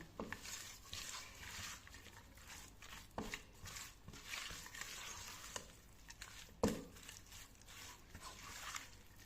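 Raw beef being worked together with spices by hand, giving a steady wet squelching and stirring texture with occasional sharper knocks, close and alone with no talk.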